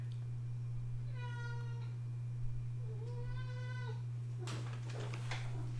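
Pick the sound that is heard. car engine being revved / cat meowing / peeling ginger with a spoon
cat meowing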